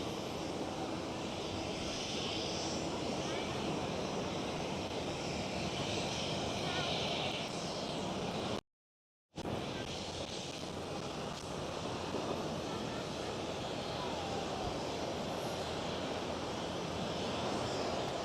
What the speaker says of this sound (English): KLM Cityhopper E175, the smallest member of the KLM family